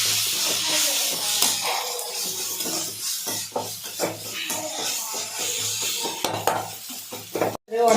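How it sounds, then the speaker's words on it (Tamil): A spoon stirs soya chunks gravy in a pan, with a steady scraping and soft sizzle throughout, a light clink of utensils near the end; no speech over it. "இப்போ கிளறிக்குவோம்."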